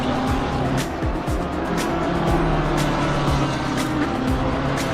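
Race cars at Oulton Park in a sim racing game roar past up close, with engine howl swelling and fading and short tire squeals and skids breaking through a steady loud drone.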